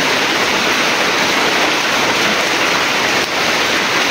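Rain falling steadily, a loud, continuous, even hiss that fills the whole stretch with no voices over it.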